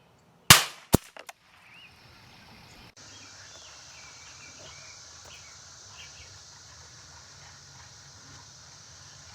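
One sharp, loud crack from a Winchester 1977 .177 pump air rifle fired at a Daisy shatter disc 25 yards away in rural Missouri, followed by quick faint impacts, then quiet outdoor ambience with birds and insects.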